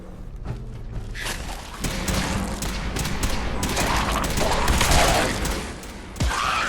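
Gunfire in the video game Fallout 4: a sustained barrage of shots and booming impacts that builds in intensity, with thuds and mechanical clanks mixed into a loud, dense battle din.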